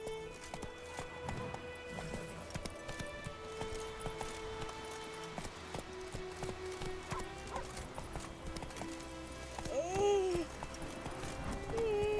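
Geralt's horse Roach galloping in The Witcher 3, steady hoof clip-clop under a dense layer of game music and ambience, with a whinny rising near the end.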